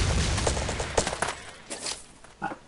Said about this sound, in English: Alright, I just, like, spammed my grenades.